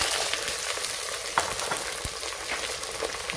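Green and yellow beans sizzle in a hot frying pan, a dense continuous crackling fry with a few scraping stir clicks, close and steady throughout.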